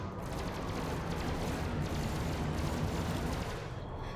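Spaceship weapons and cannons in Elite: Dangerous fire all at once in a dense, continuous roar of rapid blasts, loud and unbroken throughout.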